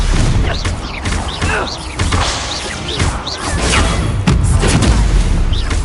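Confringo blasting-curse explosions in a Harry Potter video game: loud, close booms and whooshes repeat in a dense, chaotic barrage with no pause between them.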